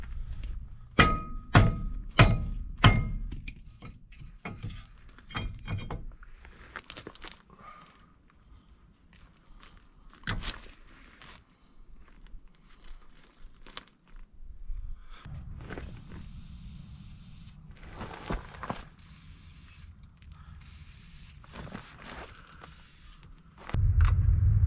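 Work on the outer hub nut of a Jeep Dana 30 axle produces a series of metallic clanks, rapid ratcheting clicks and heavy thunks, close by, with quieter handling noises between bursts.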